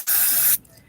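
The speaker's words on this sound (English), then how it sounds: "it's tint spray" A single burst of tint spray from an aerosol can onto a blonde human-hair wig, a loud steady hiss lasting about half a second before cutting off sharply.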